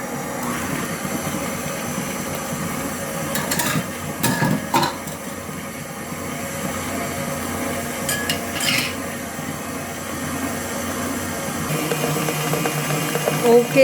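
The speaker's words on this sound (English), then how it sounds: "Then mix it, beat it again for 2 minutes." An electric mixer beats batter for a mango burnt Basque cheesecake with a steady whirring drone, broken by a few clattering knocks against the bowl.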